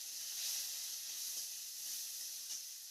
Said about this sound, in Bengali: সবজিগুলো কিন্তু আমাদের তেলের সঙ্গে একটু ফ্রাই করে নিতে হবে